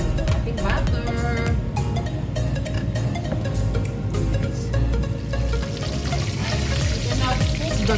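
Butter and olive oil sizzle steadily in a pan with a dense, close crackle, with kitchen clinks and a voice talking over it.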